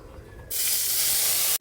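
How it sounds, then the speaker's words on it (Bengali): Tamarind water poured into a hot cooking pan sets off a sudden, loud, steady hiss of sizzling steam that lasts about a second before cutting off. "এবারে আমি তেঁতুল জলটাকে ঢেলে দেবো"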